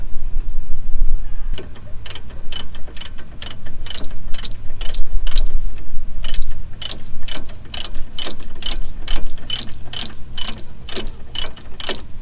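A ratchet wrench clicks in rapid bursts while bolts are tightened back onto a disc brake during a repair of a locked-up brake, sharp repeated ticking close up with short pauses between strokes, no talking.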